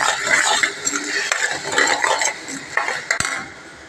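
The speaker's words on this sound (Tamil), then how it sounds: "போட்டு கிளறிட்டு அப்படியே ஸ்லோலியே வச்சுக்கோங்க" A utensil stirs spinach (palak) curry in a pan, scraping and clinking against the metal in a steady close rhythm, with one sharp knock near the end.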